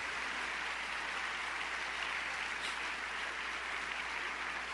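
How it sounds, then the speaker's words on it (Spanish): A church congregation applauds during a Spanish-language sermon, steady sustained clapping from many hands. It fills the room evenly with no talk over it. "¿No le dan un aplauso al Señor?"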